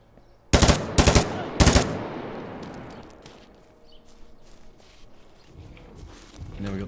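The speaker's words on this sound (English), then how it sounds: "Probably shouldn't have shot at that guy" Gunfire in the Miscreated survival game comes as three loud, sharp bursts in quick succession near the start, then fades into quieter shuffling and footsteps.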